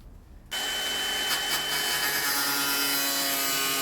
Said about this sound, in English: So I've already bought a jigsaw for this job.